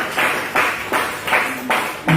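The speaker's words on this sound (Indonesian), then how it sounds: "Boleh kita tepuk tangan untuk Tuhan." A church congregation claps along in a steady rhythm, about five loud, even claps spaced evenly across a couple of seconds.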